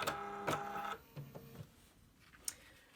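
A sewing machine stitches a reusable zippered snack bag with a rapid mechanical run of stitches, then short bursts while reversing to tie off, fairly quiet and close with pauses between.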